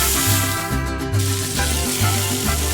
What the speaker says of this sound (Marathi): कांदा आपल्याला मस्तपैकी गुलाबी रंग येईपर्यंत परतून घ्यायचा आहे